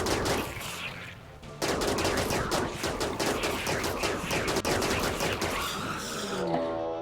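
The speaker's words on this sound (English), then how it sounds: "as soon as you are right there, we will start shooting." Rapid gunfire from a firefight in the RimWorld video game, a dense, continuous rattle of overlapping shots that starts after a quieter opening second and carries on steadily to the end, loud and close.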